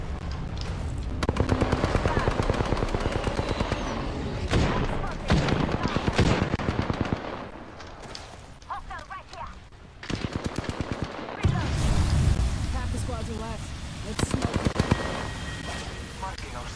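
Rapid automatic gunfire from a weapon in the Apex Legends video game, sustained bursts of loud repeated shots that stop and restart several times, with voices talking over parts of the firing.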